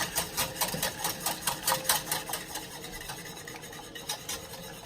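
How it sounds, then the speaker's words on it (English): Whisk beating heat-and-serve chocolate pudding mix into milk, a fast rhythmic scraping clatter against the bowl, loud and close at first, then easing off, with no voices. "there's no lumps because we're completely whisking it as it's going in"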